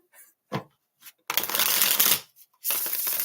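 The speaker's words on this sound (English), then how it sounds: "LZ, I'm shuffling" Playing cards are riffled and bridged close by, a few short taps and flicks followed by two long crisp shuffling bursts with a brief pause between, with no talking.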